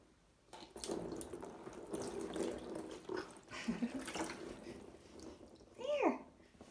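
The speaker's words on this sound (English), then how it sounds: "also going to be using just a cup for pouring water" Water poured from a cup over a baby's hair during a bath splashes and trickles in irregular bursts, soft and close, with a faint voice murmuring near the end.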